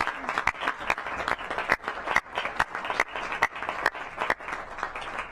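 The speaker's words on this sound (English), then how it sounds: "So one more round of applause for our fellows." A crowd applauds steadily at a council session, a dense wash of clapping with a few sharper individual claps standing out, sustained throughout.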